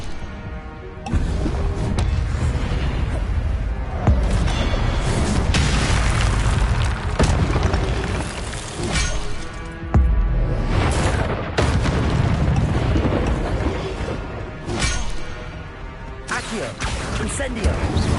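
Fiery Incendio spell casts in Hogwarts Legacy, heavy booming bursts repeating every few seconds over a dense, loud game soundscape, with a voice speaking between blasts.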